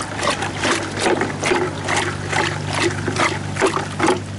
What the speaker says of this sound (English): I'll just stir it up with the rebar.